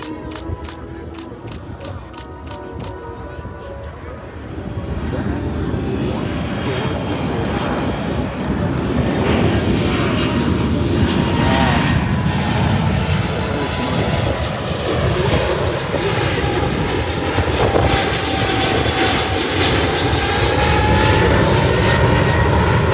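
A United Boeing 777 jet airliner makes a low pass at about 500 feet during an airshow demonstration, its engine roar swelling loud and steady as it goes by, with faint crowd noise underneath.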